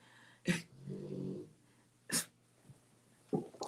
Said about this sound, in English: excuse my dog snoring too